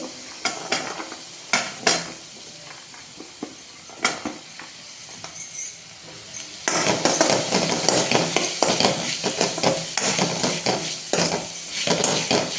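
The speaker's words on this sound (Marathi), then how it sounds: "वाटाणे चांगली भाजून घेते" Green peas for a potato-and-pea bhaji roast in a pan with scattered spoon knocks and scrapes at first, then a louder, denser sizzle and vigorous stirring up close.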